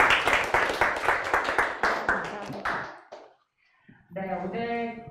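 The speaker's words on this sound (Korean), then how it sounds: "오늘 성심당 우리 박상원 이사님께 다시 한번 큰 박수 부탁드리겠습니다" An audience applauds after a lecture on a local bakery's brand story, with dense clapping close by for about three seconds before it fades out, followed after a short silence by a voice speaking.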